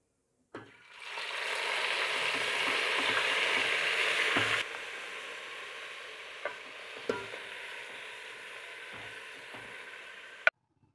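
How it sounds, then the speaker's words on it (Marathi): Marinated mutton hits hot oil with bay leaves in a biryani pot, bursting into a loud steady sizzle that fades to a softer fry, with a few clinks of a spoon against the pot. "नंतर घालूया आपण हे मॅरिनेट केलेलं मटण पूर्ण घालूया"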